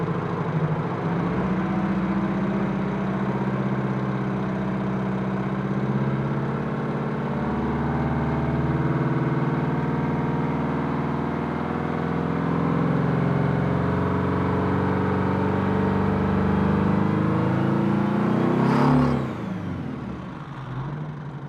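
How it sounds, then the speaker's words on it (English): A 1984 Kenworth cab-over truck with a Detroit 892 two-stroke diesel runs steadily, a close, deep, rumbling drone that swells slightly before a brief sharp clatter near the end. "this is my 1984 cab over Kenworth with an 892 in it"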